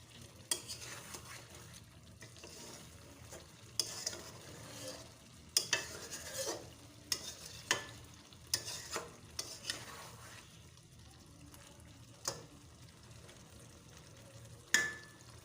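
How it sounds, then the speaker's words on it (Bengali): Garam masala stirred into chicken kosha curry in a pan, with soft sizzling under a series of sharp spoon scrapes and clinks against the pan, close and fairly quiet. "ভালো করে মিশিয়ে নেবো গরম মশলাটা"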